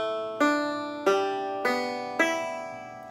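Banjitar with its upper strings tuned an octave higher, four bright plucked chord strums evenly spaced, each ringing and decaying quickly, close and fairly quiet, with no voices.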